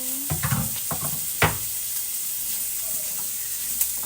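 Pork dropped into a hot pan sizzles and fries with a steady hiss, a few clattering thumps of meat and utensil near the start, close and fairly loud.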